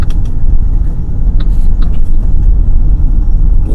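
Cabin of a car moving along a road in Mandaluyong, recorded on a built-in mic: a steady, loud low rumble of engine and road noise with faint higher hiss and a few small knocks, no voices.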